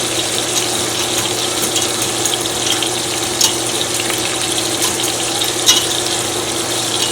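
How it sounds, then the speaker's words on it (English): A whisk works flour cooking in a pan, giving a steady sizzling hiss with occasional light taps and scrapes. "I'm trying to whisk it before I add my milk to get some of these lumps out of here"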